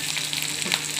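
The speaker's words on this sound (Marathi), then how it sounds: "कढीपत्ता," Curry leaves hit hot oil with browned onion and green chilies for matki usal, producing a brief burst of crackling sizzle up close, brisk and continuous through the moment, with no speech.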